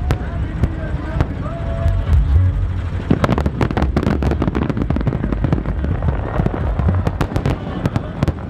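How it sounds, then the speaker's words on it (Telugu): Fireworks at a New Year celebration on Marjan Island, Ras Al Khaimah, bursting in rapid irregular cracks and booms, some near and loud, others distant, with crowd voices and talk beneath. "ఫైర్ క్రాకర్స్ అవుతున్నాయి"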